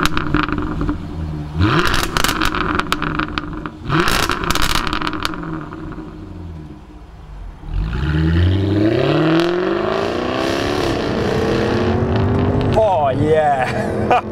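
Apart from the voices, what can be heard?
Jaguar F-Type R sports car engine driving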